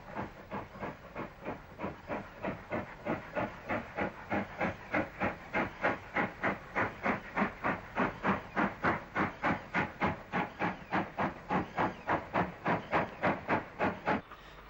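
Steam tank locomotive number 6 departing a 1960s Irish railway station: loud rhythmic exhaust chuffs, evenly spaced and gradually louder, over a constant steam hiss, with no voices.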